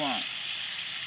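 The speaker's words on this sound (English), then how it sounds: "You're gonna let that sizzling for a little bit." Food sizzles and crackles on a backyard barbecue, a bright, steady hiss that opens with a brief fading voice and then carries on alone.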